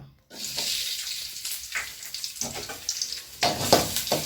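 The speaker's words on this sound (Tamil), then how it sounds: "நல்லா ஈரம் இல்லாமல் நல்லா வறுத்து எடுத்துக்கலாங்க" Crushed garlic frying in a little sesame oil, a steady broadband sizzle with crackling bursts after a brief quiet start, close and moderately loud, no voices.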